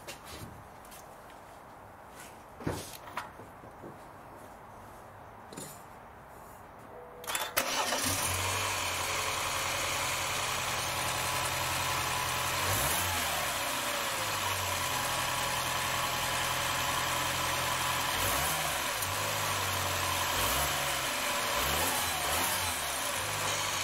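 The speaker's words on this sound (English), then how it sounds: "now I'm just going to start the car" A BMW F20 hatchback fires up after new spark plugs and coil packs: a short crank catches, then the engine settles into a steady, even idle with a few light revs, loud and close.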